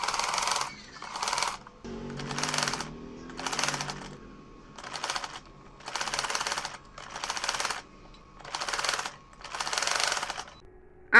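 A sewing machine stitches a neck design in a series of short rapid-fire bursts, about nine runs of fast chattering needle strokes separated by brief pauses, close and clear with a little talk in one gap.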